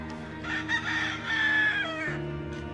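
Chickens in a breeding pen on a farm: a rooster gives one loud, drawn-out crow with clucking around it, close by and standing out clearly.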